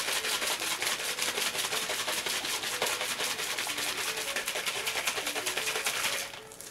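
A bottle of hair bleach product is shaken hard and steadily, a rapid, continuous rattling slosh that keeps up an even rhythm for about six seconds before easing off at the end, close and alone with no talking.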